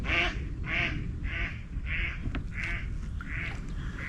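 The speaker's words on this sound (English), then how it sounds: "There goes the mallards." Mallard ducks on a river quack in a repeated series of loud, rhythmic calls, roughly one every half second, continuing over steady background noise as they take off.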